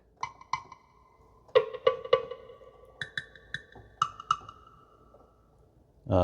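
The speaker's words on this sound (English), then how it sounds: "Here's wood block." Wood block voice on an electric keyboard struck as a series of short, hollow, clicky notes at varied pitches, irregularly spaced and fairly close, with silence between hits.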